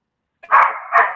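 A dog barks twice at close range, two loud, full barks about half a second apart following brief silence, with no voices over them.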